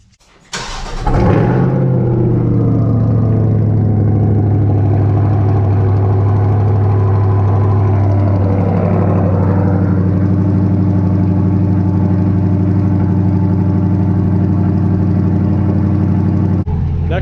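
A 2020-2023 C8 Corvette engine cranks and fires up with a loud roar, then settles into a steady, deep idle that holds for many seconds, close by.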